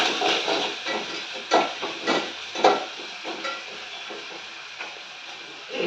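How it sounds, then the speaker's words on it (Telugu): Peanuts fry in a tempering of spices in a pan, giving a continuous hissing sizzle with a few soft stirring scrapes, close and moderately loud, no voices. "పల్లీలను బాగా ఫ્రై అవ్వనివ్వాలి."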